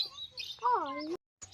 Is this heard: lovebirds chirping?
yes